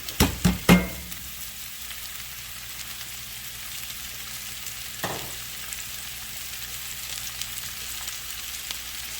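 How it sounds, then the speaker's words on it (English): Mushrooms drop into a hot pan after prosciutto was cooked in it, opening with a few sharp clatters, then settling into a soft, steady sizzle with one brief knock partway through. "Now let's throw in our shrooms. And we're gonna let them cook down."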